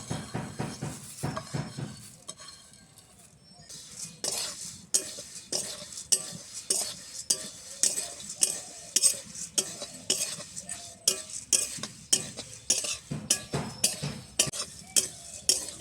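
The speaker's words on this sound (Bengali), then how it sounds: "আমি কড়াই বসিয়ে দিয়েছিলাম, এবার আমি চিড়েগুলো দিয়ে ভেজে নেব।" Flattened rice dry-roasting in a kadai with no oil, stirred steadily so a metal spoon scrapes and clinks against the pan in a quick repeating rhythm, close and alone without talk.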